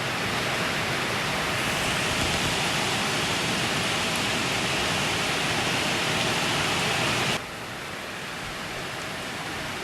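Heavy summer rain pours outside a barn and shop, a loud, dense, steady hiss that fills the clip before dropping abruptly to a quieter but still constant downpour near the end.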